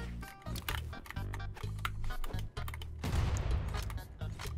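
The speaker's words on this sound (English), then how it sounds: "The bomb hit him and then it didn't hit him and then it hit me" Brawlhalla video game combat with a bomb detonating: a busy stream of punchy hits and tonal game effects, then a loud noisy burst midway that lingers as a rough, crackling blast to the end.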